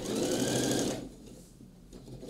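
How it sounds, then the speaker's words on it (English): A sewing machine runs briefly while stitching a coat seam from the wrong side, a close steady whirring hum that stops abruptly about a second in, leaving quiet room tone. "we're going to stitch it down from the wrong side"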